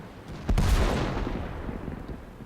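Tank cannon shots bouncing off turret armor in World of Tanks: one quick crack followed by a heavy boom that rolls away into a rumbling decay over low background noise.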